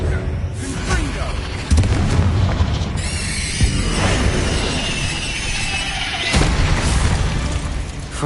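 In the Hogwarts Legacy video game, a Confringo spell goes off as a loud, booming blast with shattering crackle, layered among other spell effects and game sounds.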